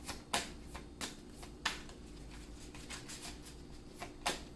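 Tarot cards being shuffled and drawn, giving a scattering of soft, crisp card snaps and riffles at irregular intervals over a quiet low hum, close and fairly faint, with no talking.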